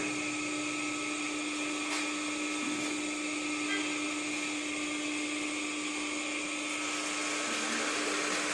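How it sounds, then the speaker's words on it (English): Steady whine of an induction motor rated 1500 RPM running near 1480 RPM on an electrical lab bench, a continuous even hum with a strong fixed tone and broad hiss, constant loudness throughout with no talk. "Here and measure the slip of induction motor by tachometer."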